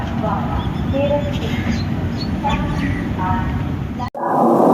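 The 12621 Tamil Nadu Express at Hazrat Nizamuddin station, a steady low rumble of rolling rail wagons with a brief voice in the background, ending in an abrupt cut to a louder, harsher rush.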